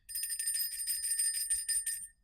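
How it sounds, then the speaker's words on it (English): A small bell rings out in a quick, continuous tinkling run lasting about two seconds, bright and close, then stops abruptly, with no voices over it. "I am going to be ringing my bell."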